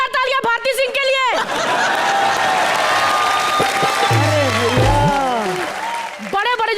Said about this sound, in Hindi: एक बार जोरदार तालियां भारती सिंह के लिए।